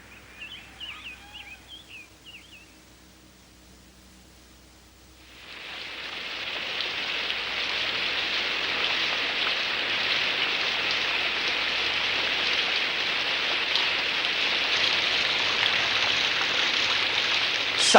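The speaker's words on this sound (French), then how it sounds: "Saleté de pluie." Faint birdsong and a quiet outdoor lull give way to a sudden, steady downpour, with rain hissing evenly and close for the rest of the stretch and growing slightly heavier.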